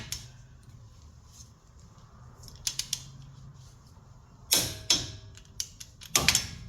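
A torque wrench tightens wheel hub bolts on a 2004 Ford F150, producing scattered sharp ratcheting clicks and metallic bursts, louder clusters near the end, over a faint low background hum.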